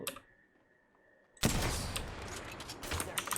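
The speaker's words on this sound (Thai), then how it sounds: "เอายิงกันเอง ยิงกันแล้วยิงกันแล้ว" After a short near-silent stretch, a sudden loud burst of rapid gunfire erupts in an Apex Legends firefight and continues densely to the end, with clicking shots layered on top.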